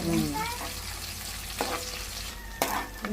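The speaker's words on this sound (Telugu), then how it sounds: "మంచిగా కలర్ గోల్డెన్ కలర్ వచ్చేటట్టుగా ఫ్రై చేసుకోవాలి" Bommidayi fish frying in hot oil until golden, a steady close sizzle with occasional stirring clinks and scrapes over a constant background hum, no talk.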